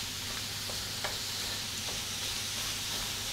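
A spatula stirs ground meat seasoned with chili powder and salt in a hot skillet for skillet chili pie, producing a steady close sizzle with faint scraping strokes and no voices.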